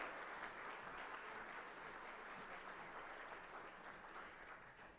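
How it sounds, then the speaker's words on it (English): Audience at the Bharat 6G Alliance launch applauding the Minister of Communications, a soft, distant wash of steady clapping that holds evenly throughout, faint and without talk over it. "Can we have a huge round of applause,"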